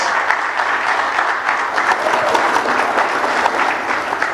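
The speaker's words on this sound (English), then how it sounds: "A round of applause." Audience applause at an energy summit, a hall full of people clapping loudly and continuously with some crowd murmur underneath, close and sustained for the whole stretch.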